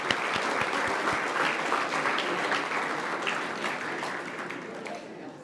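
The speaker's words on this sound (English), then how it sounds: "Another round of applause for all of you wonderful people." An audience at a dinner bursts into sustained applause, a dense wash of many hands clapping that fills the room and slowly tapers off.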